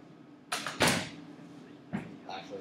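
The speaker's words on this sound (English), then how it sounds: "The door closes, it will lock the door." A door is shut with a sharp bang, followed by a few lighter clicks and rattles as it is locked, all close by in a quiet room.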